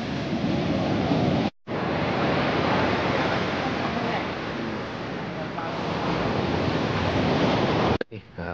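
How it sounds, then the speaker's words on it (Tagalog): Strong ocean surf on an island-hopping boat trip, a loud continuous roar of crashing waves and rushing water with wind buffeting the microphone, cutting out briefly twice. "Lakas ng alon, no?"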